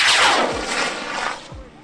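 Scratch-built model rocket with rear ejection launching on an H-148 motor, a loud sudden blast followed by a roaring rush that fades over a couple of seconds.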